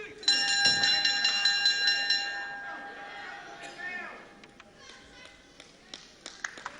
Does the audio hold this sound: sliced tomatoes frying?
no